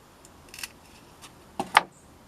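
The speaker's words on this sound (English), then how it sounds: "I'm looking for a long stem with a bud that we can cut, leaving us some flowers on the top. So I'm going to cut down," A coleus plant stem is snipped with scissors, giving two or three brief, close, crisp clicks over a quiet background, the sharpest cut near the end.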